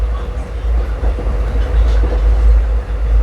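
A train on the Ernakulam to Pune route rolls along slowly, a heavy low rumble with soft rhythmic knocks of the wheels, close and steady throughout.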